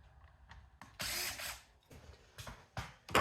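A power tool zips nuts and bolts off the top of a scrap sump pump in short, stop-start bursts, with one longer whirring run and sharp rattling clicks between.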